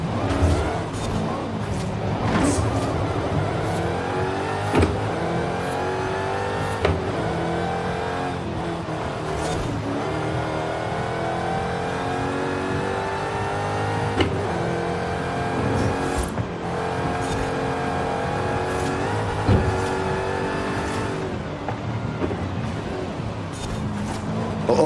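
A car in Forza Horizon 5 drives with its engine revving up and down through gear changes, tires squealing under braking, loud and continuous for the whole stretch, with occasional thumps and a faint voice underneath.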